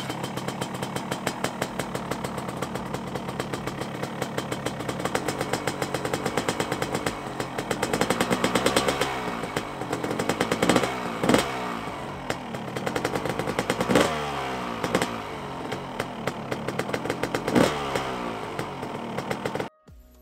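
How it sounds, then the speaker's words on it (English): A Honda CR250 two-stroke motorcycle engine runs during break-in, buzzing at a rapid idle and then repeatedly revving up and down in loud surges before cutting off abruptly at the end. "kind of revving it up and down a little bit until the coolant temperature starts to go up slightly"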